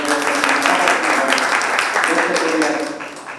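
Audience applause at a stage event, dense clapping for a few seconds that tapers off near the end, with a voice speaking over it.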